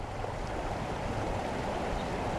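A river stream at the proposed Bayabas dam site in DRT, Bulacan, makes a continuous even rush of flowing water that stays close, steady and unaccompanied by voices.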